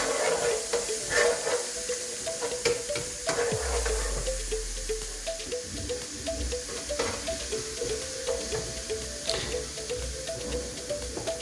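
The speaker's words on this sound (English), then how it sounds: "I'm going to give it a good mix around" Green chillies fry in a vindaloo curry pan with a loud, continuous sizzle and hiss, while stirring adds rhythmic scraping and clicks against the pan and a brief low rumble.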